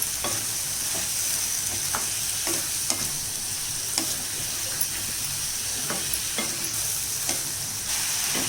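Long beans (karamani) sautéing in a pan, with a steady close sizzle and periodic scraping stir strokes throughout, no voices.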